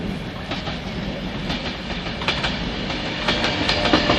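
A train rolls into Crewe station on the delayed London Euston service, a steady rumble of wheels with soft clickety-clack and faint squeals building slightly louder toward the end.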